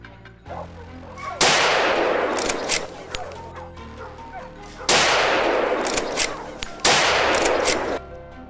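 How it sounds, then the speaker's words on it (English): Gunshots during a hunt for a herd of wild boars: three loud, sharp reports with long ringing decays spaced a few seconds apart, and dogs barking in between. "We kept shooting and shot down quite a few wild boars."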